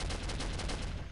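Soldier of Fortune gunfire hits in a brief, dense volley of overlapping rapid shots, loud and close, with no pause across the short burst.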